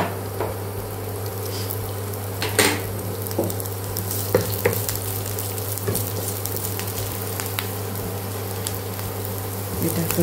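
Chopped onion frying in a little oil in a pan, a close, low sizzle under a steady hum, with occasional scraping and stirring clicks from a utensil.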